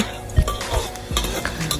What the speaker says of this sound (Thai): คนเลยนะคะ